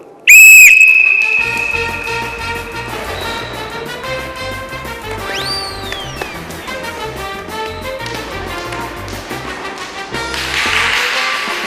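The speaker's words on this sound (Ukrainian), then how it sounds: "Отже, якщо команди готові, тоді по свистку." A referee's whistle blows one sharp, loud blast to start a team race in a televised relay-games final, followed by music and a rising whoosh effect.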